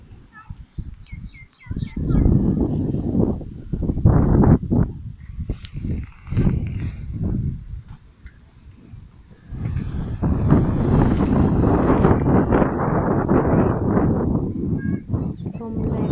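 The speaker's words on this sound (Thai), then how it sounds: "จริงเหรอลมแรง" Strong wind buffets the microphone on a quiet beach at Koh Samui, a rough, gusty rumble that swells and drops, loudest over the final several seconds, with faint voices at times.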